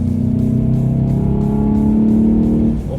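A 2021 Volkswagen GTI accelerating hard, its engine note climbing steadily and loudly from the cabin before easing off near the end, with no talking.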